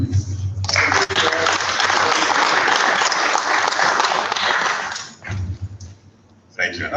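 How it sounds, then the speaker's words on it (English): Audience applause at a 2021 World Day for Safety and Health ceremony, a dense burst of clapping lasting about five seconds, then dropping to quiet with a voice speaking before clapping resumes briefly. "Another big round of applause for our guest of honor"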